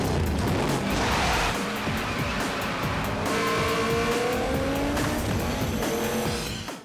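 A 900-horsepower Detroit muscle car roars loudly and continuously with screeching tire squeals and skidding, engine pitch sweeping up and down throughout, no voices.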